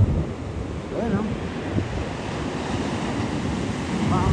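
Ocean surf rolls in at Half Moon Bay, a steady broad wash of waves mixed with gusting wind noise on the microphone, with faint voices now and then.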